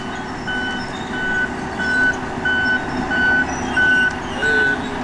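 A heavy bush hog cutter machine works nearby, tearing through wood, with a steady engine drone under a loud, evenly spaced reversing beep that repeats about every half second throughout.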